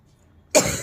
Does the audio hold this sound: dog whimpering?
no